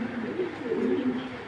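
A male racing pigeon of an Olympic bloodline gives a single soft, low, throaty coo, close by and lasting just over a second.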